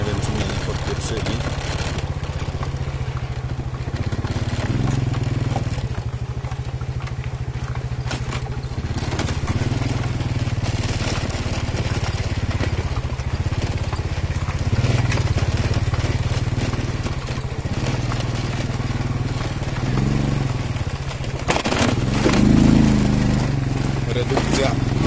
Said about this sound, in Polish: W sumie ten model motorków jest bardzo dobry do jazdy po takich bezdrożach i dziurach.